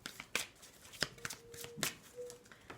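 Tarot cards shuffled by hand during a card reading, giving a series of quick, crisp riffles and soft slaps in short bursts, close and fairly quiet, with no talking.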